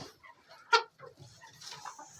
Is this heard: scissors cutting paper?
no